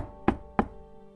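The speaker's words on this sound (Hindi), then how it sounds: "तभी राजा के दरवाजे पर दस्तक हुई।" Two sharp knocks on a door sound close together and alone, followed by a brief fading resonance.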